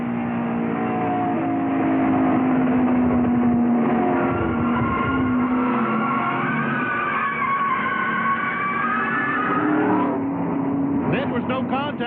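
A NASCAR Busch Series stock car roars through turn 1 at Darlington in 1996, heard from inside Dale Jarrett's car as a steady, loud, band-limited engine drone that rises and falls, with commentary talking over it.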